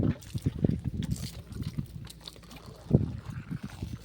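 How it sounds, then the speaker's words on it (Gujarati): Water poured out onto the ground beside a tree on a farm, heard as a close, uneven series of splashing and trickling bursts with one stronger gush near the end. "આપણે જરાવાર અહીંયા પાણીને મૂકી દઈશું"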